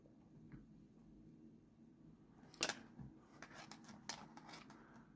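Scissors snip through a length of fishing line while a loop rig is tied, giving a quiet close-up scene with a sharp cut, a second softer snip and light handling rustles.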